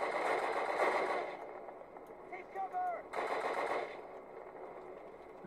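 Automatic machine gun bursts from a Call of Duty World War II shooter game fire in rapid rattling volleys, then pause and resume, with game ambience and a faint voice underneath.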